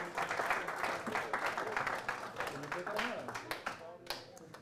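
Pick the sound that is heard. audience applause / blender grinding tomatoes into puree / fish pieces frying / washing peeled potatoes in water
audience applause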